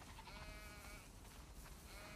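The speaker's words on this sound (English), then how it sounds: "Wow, that's a lot of sheep." Sheep bleat repeatedly in a farm scene from the video game The Last of Us Part II, overlapping quavering calls from a flock at moderate distance, heard steadily over a faint background with no talk.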